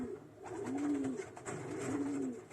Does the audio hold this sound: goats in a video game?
no